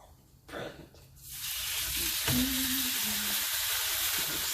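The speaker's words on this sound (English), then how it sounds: "I'll add some butter and I'll try to caramelize the onions" Onions caramelizing in butter in a pan, sizzling steadily after a short clatter, the frying hiss rising and holding loud and close with no talk.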